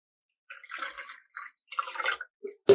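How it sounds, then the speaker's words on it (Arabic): Water poured into a pot for Egyptian yellow lentil soup with vermicelli, coming as several splashing bursts with short gaps, close and moderately loud, ending in a louder gush. "هي هتحتاج شوية مية كمان، هزود مية"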